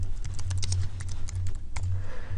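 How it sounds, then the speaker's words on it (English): Rapid typing on a computer keyboard, a fast irregular clatter of key presses close to the microphone, with short pauses between bursts and no talk. "I'll go to my email and go ahead and start typing in kids' names"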